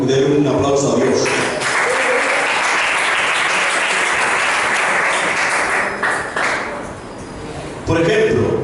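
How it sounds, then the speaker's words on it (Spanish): A church congregation bursts into sustained applause during a sermon, a dense wash of clapping that swells for several seconds. A preacher's voice is heard at the start and end, around the clapping. "Denle un aplauso a Dios"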